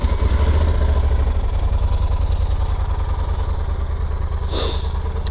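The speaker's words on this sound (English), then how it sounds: "Let me start up the bike so you guys can see" Yamaha Super Tenere motorcycle engine already running at a close, loud idle, a steady rapid thumping beat with mechanical clatter, plus a brief hissy burst near the end.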